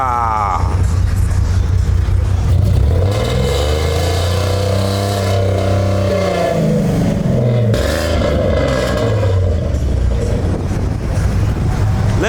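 A car engine revs hard at a Houston car meet with slabs, the loud exhaust note rising and falling through several throttle blips over about twelve seconds, with crowd voices talking in the background.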